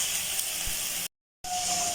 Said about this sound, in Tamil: இது எல்லாத்தையும் சேர்த்து அப்படியே நல்லா வதக்கி விட்டுருங்க